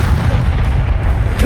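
A Confringo fire spell bursts in Hogwarts Legacy, giving a loud, continuous low rumbling boom that rolls on for over a second with no clear separate blasts.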